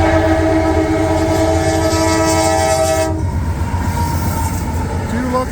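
A westbound CSX intermodal freight train led by two locomotives passes near Bloomdale, Ohio, its loud rumble steady throughout, with a sustained horn blast that ends about midway while the rolling roar continues close by.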